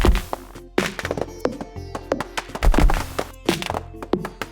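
Trees chopped down in Stardew Valley, a rapid run of crisp wooden thunks and axe strikes in steady rhythm, loud and close, with game music running underneath.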